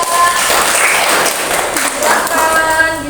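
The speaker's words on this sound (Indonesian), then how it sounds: "Beri tepuk tangan untuk kelompok 2." Classroom applause for a student group after their presentation, a dense burst of clapping running steadily throughout with speech mixed in beneath.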